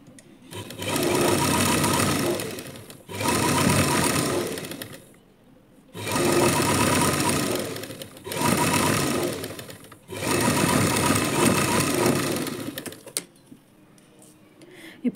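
Sewing machine stitching a lining blouse, five steady close-up runs of rapid stitching, each a few seconds long with short pauses between, ending in quiet handling sounds.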